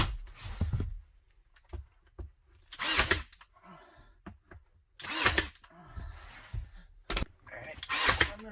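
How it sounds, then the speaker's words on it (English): Tongue and groove pine boards being nailed up in a gambrel loft: several sharp, near hammer or nail gun strikes in irregular bursts, with quieter scraping and shuffling between them and no talk. "Nail this in."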